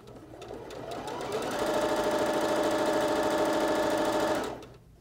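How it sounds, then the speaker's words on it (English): A sewing machine with a quarter-inch foot stitching fabric strips for quilt piecing, its motor whirring up to a steady, rapid mechanical chatter before stopping abruptly. "I'm going to take it to my sewing machine."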